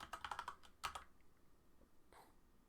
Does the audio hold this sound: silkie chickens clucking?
no